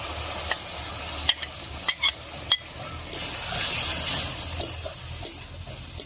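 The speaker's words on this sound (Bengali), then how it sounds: "লাউয়ের সঙ্গে মশলাটাকে খুব ভালো করে কষিয়ে নেব" Bottle gourd stirred in a pan with ginger and poppy seed paste: sharp spatula clacks against the metal over a steady moist sizzle, close up.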